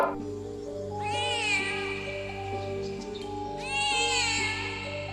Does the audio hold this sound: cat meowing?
yes